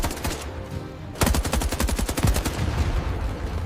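Gunfire sound effect from a military drama, a rapid automatic burst of sharp, loud shots in a fast regular rhythm, close and dominant, preceded by a quieter rumbling lead-in.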